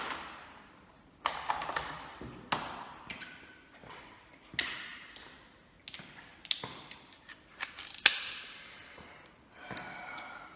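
Ratchet tightening cylinder head bolts on an engine build, a series of short sharp clicks and ticks in quick irregular bursts, fairly close and quiet, with brief pauses between runs of tightening.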